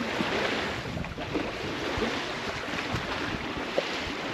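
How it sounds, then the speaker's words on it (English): A sailboat under way on open water at the end of the day, with a broad, steady wash of water and wind rushing past the microphone and small splashes throughout, no voices. "Some sailing for the end of the day"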